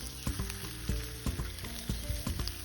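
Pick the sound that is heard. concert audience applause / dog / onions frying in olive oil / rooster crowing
onions frying in olive oil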